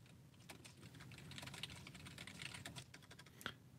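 Steady, close clicking of keys on a computer keyboard as instructions are typed into a PowerPoint slide, quick irregular keystrokes throughout with no voice.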